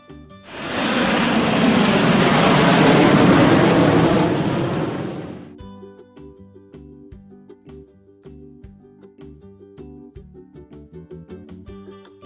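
An airplane roars past in a broad, loud engine rush that swells and fades over about five seconds, leaving a light background melody.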